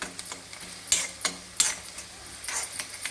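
Hot tempering is stirred and poured into a ridge gourd and curd chutney, giving bursts of sizzling and scraping clatter in uneven pulses, fairly close, with no talk.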